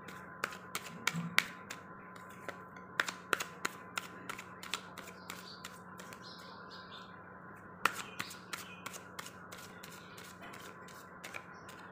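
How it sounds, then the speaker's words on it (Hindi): Tarot cards shuffled by hand, a steady run of soft, quick papery flicks and taps close by, with occasional sharper snaps, over a quiet room hum and no talking. "तो चलिए उसके लिए सबसे पहले अपन कार्ड शफल करते हैं।"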